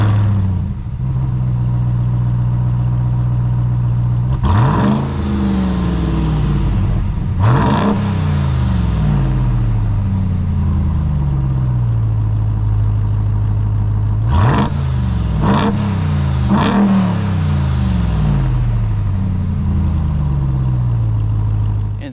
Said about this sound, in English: Here is an exhaust clip.